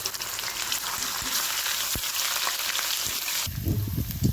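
Two dried red chillies, black cumin and chopped ginger frying in hot oil give a bright, continuous sizzle; near the end it turns lower and more clattery, as if stirred.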